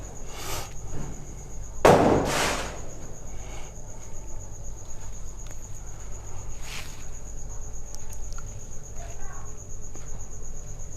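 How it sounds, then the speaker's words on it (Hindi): Firecrackers burst close by during a wedding, one sharp loud crack with a quick follow-up and fainter pops afterward, set over a steady cricket-like hum with occasional faint voices. "मेरे ख़्याल से अब ख़त्म हो गए पटाखे"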